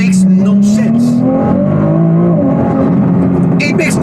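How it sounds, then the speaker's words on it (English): A Ferrari six-cylinder turbocharged engine revving hard while driving, a loud rising and falling engine drone close by under continuous excited talk. "I can't believe I'm driving a 6-cylinder engine"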